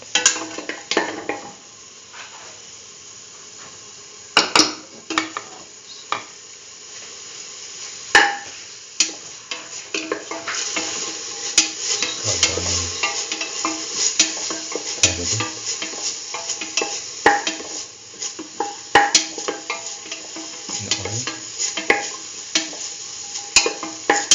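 Onion pieces with salt are sautéed in a pan for a potato chayote stew, giving a steady soft sizzle broken by frequent sharp scrapes and clicks of a utensil stirring against the pan.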